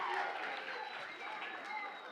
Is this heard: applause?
yes